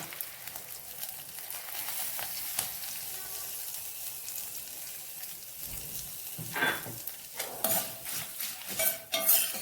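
Spices and asafoetida fried in oil for Andhra-style pulihora, a steady soft sizzle close by with occasional stirring clinks of a utensil against the pan.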